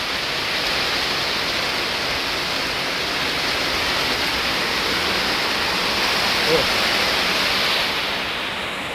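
Heavy rain pours down on a home with a leaking roof, a loud, dense and unbroken hiss that holds steady from start to finish.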